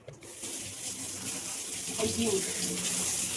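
Tap water runs steadily into a sink while a small utensil is rinsed in a home kitchen, a close, continuous gushing hiss with a faint clink midway and no voices.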